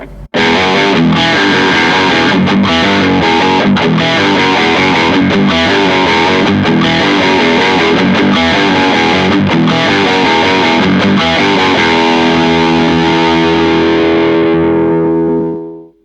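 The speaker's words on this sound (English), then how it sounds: "I'm going to add an effect, an octave pedal to it" Thick, heavily distorted electric guitar through a VOX Valvetronix VT120 Plus amp with an octave pedal effect, riffing with a doubled, octave-layered tone, loud and continuous, ending on a sustained chord that rings out and fades.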